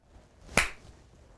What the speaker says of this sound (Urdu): جس طرح یہ میں تالی بجاؤں گا تو دیکھنا آواز پیدا ہوگی